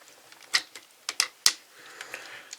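Hard plastic parts of a Shurikenjin DX robot toy snap and click as pieces are fitted, a few sharp, close clicks spaced irregularly with softer handling rustle between.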